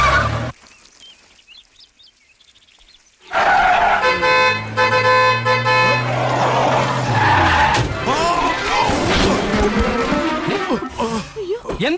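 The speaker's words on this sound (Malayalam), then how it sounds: "എത്ര ഹോൺ അടിച്ചു?" A car horn honks in a rough burst of toots after a quiet opening, mixed with tyre skids, engine noise and voices talking over the commotion.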